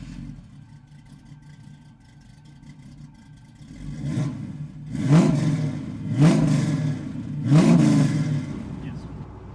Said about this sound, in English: let's take this Camaro for a drive